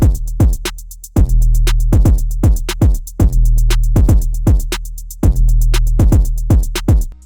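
A trap-style drum beat programmed in FL Studio, with booming deep 808 hits, crisp rapid hi-hats and regular snare strikes in a steady looping pattern, loud and up front with no talking.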